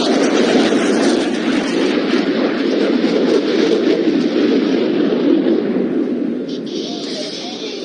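A Tornado supersonic combat jet flying at the Cosford airshow, a loud, broad roaring rumble that holds steady for several seconds and then eases slightly toward the end.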